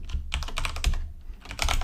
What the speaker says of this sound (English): We'll just type in